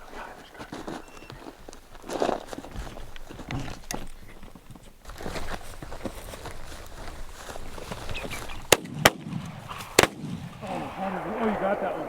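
Gunfire during a hunt outdoors: three sharp, loud reports in quick succession near the end, heard over a steady rustling background with people talking.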